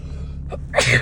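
A single sharp sneeze bursts out near the microphone, preceded by a brief sharp intake of breath.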